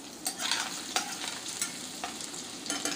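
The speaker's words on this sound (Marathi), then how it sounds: "पनीरचे तुकडे इथे तळून तयार झालेले आहेत।" Pieces of paneer fry lightly in hot oil in a pan, giving a steady close sizzle with scattered louder crackles and utensil scrapes, no voices.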